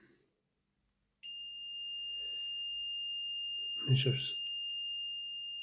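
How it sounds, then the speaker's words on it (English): A multimeter sounds a continuity beep while testing the armature of a Hornby Dublo 2218 4MT model locomotive motor, a steady high electronic tone that starts abruptly and holds to the end, with a brief voice over it. "we'll do a continuity test on it just to see if the armature's okay"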